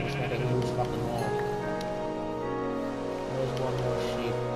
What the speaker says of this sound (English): There's one more sheep.